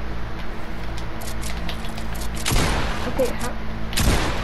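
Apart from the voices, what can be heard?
shotgun fire in the video game Fortnite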